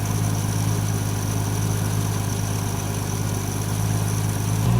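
A Ford 200 inline six engine idles steadily and low, a continuous rumbling drone that holds nearly unchanged throughout, close and fairly loud, with no voices over it.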